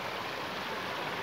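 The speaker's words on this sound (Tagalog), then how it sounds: "So yun, umuulan-ulan na." Light rain falling outdoors at a restaurant with a fish pond, a steady soft hiss of drops spread evenly throughout with no voices.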